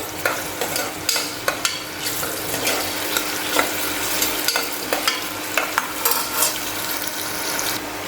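Finely chopped medium onion fries and is stirred in a pan for a mutton curry, a close, loud sizzle broken by repeated spatula scrapes and clicks throughout.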